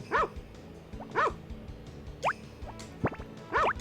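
A dog barks in the Harvest Moon: Back to Nature video game: four or five short, bright yips and barks, close and clear, spaced at irregular intervals over a quiet game background with no talking.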